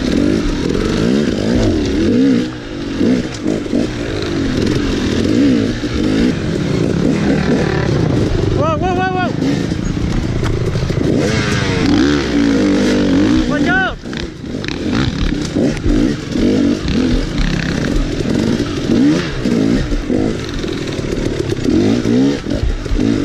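Dirt bike engines race through a muddy hare scramble, a rider being passed by a Husqvarna; loud, continuous revving and roaring throughout, with throttle swells and brief dips, plus scattered clatter.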